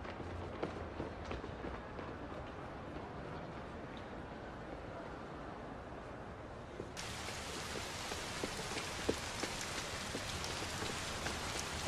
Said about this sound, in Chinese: 外面下雨呢